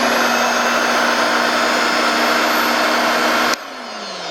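An AIIYME SH-168 dog grooming hair dryer runs as a steady, loud whoosh with a constant motor whine, then is switched off abruptly near the end, its pitch sliding down as it spins to a stop.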